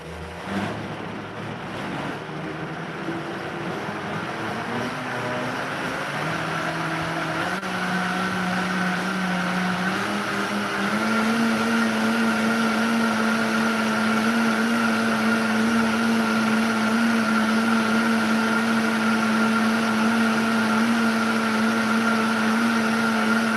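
A kitchen blender whirs through kefir, honey and fruit smoothie, motor pitch shifting upward in steps as speed changes, then holding a steady loud hum, close and without talk.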